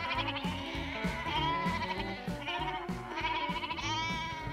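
Sheep bleat repeatedly over a busy musical backing, the animal calls blending with rhythmic instruments throughout.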